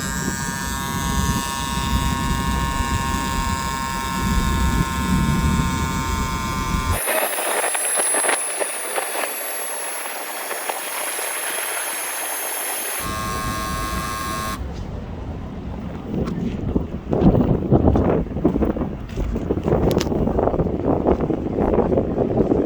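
A CYCPLUS AS2 Pro electric bike pump runs close up while inflating a tyre, giving a continuous buzzing motor whine whose pitch and tone change in distinct sections, with some rustling handling noise.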